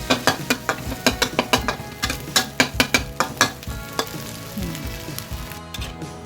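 Chili paste is stir-fried with mashed egg in a pan. A utensil scrapes the pan in a fast, regular series of close, crisp strokes, then the scraping fades into a quieter sizzle. No voices are heard.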